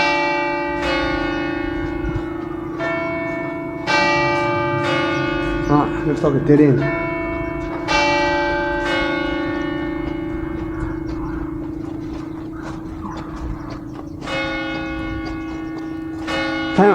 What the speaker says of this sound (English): It's like the bells, guys. The bells.